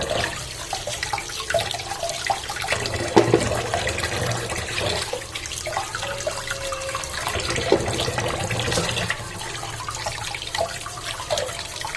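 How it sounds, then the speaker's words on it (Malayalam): Tap water runs steadily while muddy items are scrubbed and rinsed by hand, a continuous splashing wash with occasional sharper splashes and clatter throughout. "ഇത് കണ്ടിട്ട് നിങ്ങൾ വിചാരിക്കണോ വെള്ളം ഞാൻ അനാവശ്യമായി കളയാന്ന്"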